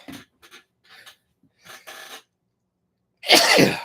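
One loud, close sneeze bursts out near the end, following a few soft, scattered breathy sounds and short vocal noises.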